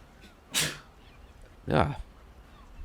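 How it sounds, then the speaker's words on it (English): Two sharp, close sneezes about a second apart, each a short explosive burst against a quiet room. "Excuse me, I had to sneeze."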